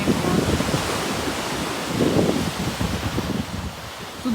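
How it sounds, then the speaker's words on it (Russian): Sea surf washes over stones on a shore in Zelenogradsk, a continuous rushing roar with soft swells and heavy wind buffeting the microphone. "Море шумит, камни, ветер"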